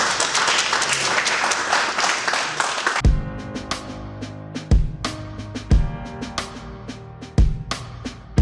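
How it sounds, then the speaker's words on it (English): An audience gives a round of applause at a TiE event, dense, loud clapping at first, then thinning into scattered, irregular claps with brief pauses. "Please welcome him with a round of applause."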